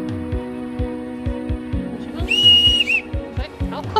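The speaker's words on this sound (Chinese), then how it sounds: "他吹哨子了，赶人上车了" The conductor of the Swiss Glacier Express blows a whistle to call passengers aboard. A single shrill whistle blast of under a second sounds midway, over a steady thumping background music beat.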